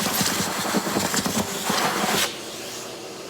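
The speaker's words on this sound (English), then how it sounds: "let's vacuum it again and we're ready to glue" A vacuum cleaner works over a vintage Gibson J-30 acoustic guitar during a bridge reset, giving a close, steady broadband whoosh that cuts off sharply a little over two seconds in, leaving a quiet hum.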